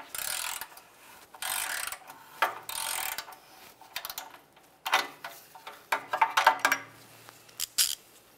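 A ratchet wrench loosens an O2 sensor on a 2003-2011 Mercury Grand Marquis, with bursts of rapid clicking and several short separate clicks at close range, and no speech.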